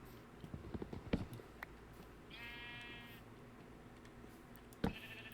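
A single short sheep bleat from Minecraft, then another brief one near the end, amid quiet thumps and clicks in a calm setting.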